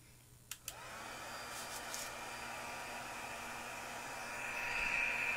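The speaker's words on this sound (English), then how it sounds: "you don't have to listen to the embossing tool, because it is kind of loud" A heat embossing tool blows with a steady broadband whoosh after a couple of sharp clicks as it switches on, holding a constant airy roar that swells slightly louder near the end, no talking.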